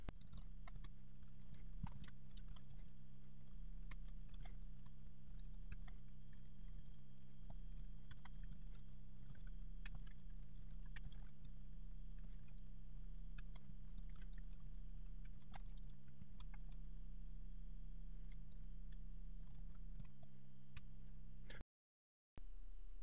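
Quiet computer-keyboard typing while JavaScript code is entered. Soft clicks patter almost continuously for about twenty seconds over a steady low hum, then stop.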